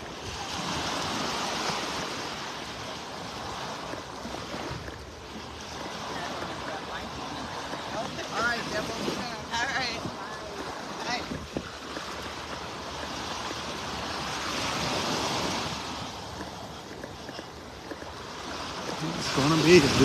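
Ocean surf and wind on a beach in North Naples, Florida, on a morning walk, a steady broad wash of waves with gusting wind noise buffeting the microphone, moderately faint throughout.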